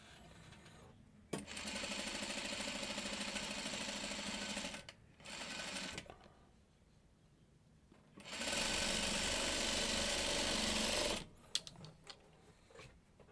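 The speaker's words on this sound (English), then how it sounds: "So we'll put this right sides together and we'll start sewing." A sewing machine stitches quilt pieces for a diamond log cabin block, placed right sides together, running in two long steady bursts with a short run between them, then stopping.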